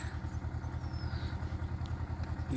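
A tractor engine idles on a farm with a steady low rhythmic chugging thrum, close and continuous, and no voices.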